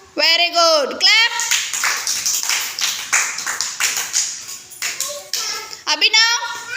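Children clap in a classroom, a burst of scattered hand claps and taps running through the middle of the clip, bracketed by an adult's voice speaking at the start and end.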